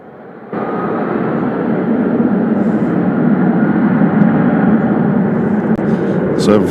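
Boeing 757 jet engines roaring loud and steady at Louisville International Airport, a sustained broadband rumble that swells in after the first half-second and holds throughout, with a brief higher whine near the end.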